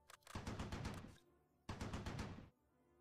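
Rapid automatic gunfire from the war strategy game Close Combat comes in two dense bursts of overlapping shots, the second after a short pause, both sharp and fairly close.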